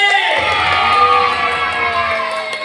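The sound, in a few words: children clapping and shouting yeay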